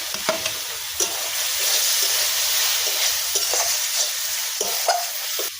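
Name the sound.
mustard paste and spices sautéing in a pan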